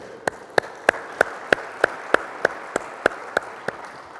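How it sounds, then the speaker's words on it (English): Audience at the State of NephCure 2022 event gives a slow round of applause: about a dozen sharp, evenly spaced claps ring out clearly over a soft, steady hum of room noise. "So give yourselves an applause here, okay?"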